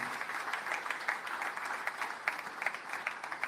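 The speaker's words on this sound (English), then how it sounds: "I think he deserves a big applause for that, ladies and gentlemen." Applause from an audience at a statue unveiling ceremony in Mauritius, a steady, fairly faint and distant patter of many hands clapping throughout.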